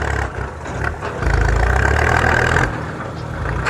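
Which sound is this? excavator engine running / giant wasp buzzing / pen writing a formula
excavator engine running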